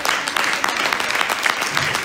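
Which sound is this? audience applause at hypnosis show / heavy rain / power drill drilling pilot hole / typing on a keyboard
audience applause at hypnosis show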